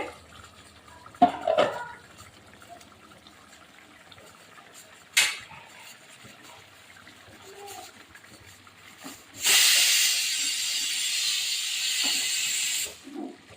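Loti fish cooks in a covered pan as released water hisses: a few brief clatters and knocks, then a loud steady hiss running for about four seconds before it cuts off.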